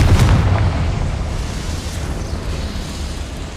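Confringo spell explosion in Hogwarts Legacy, a loud deep boom that starts at full strength and fades into a long, steady rumbling roar.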